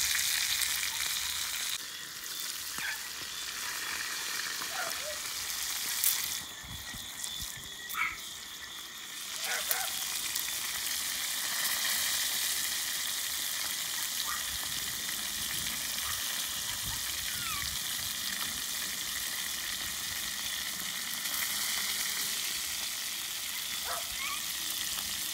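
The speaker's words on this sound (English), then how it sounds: "fried fish" Fish fries in a pan at an outdoor homestead cookout, giving a steady bright sizzle with scattered crackles and pops, and no talking.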